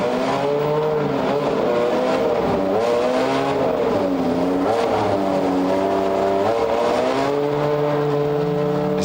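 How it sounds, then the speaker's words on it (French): The Ferrari 430 GT2 race car pulls out of the pits at Monza during an international GT race, its engine revving loudly and rising through the gears in a continuous, close roar. "Voilà, c'est reparti pour la Ferrari 430 GT2 numéro 1."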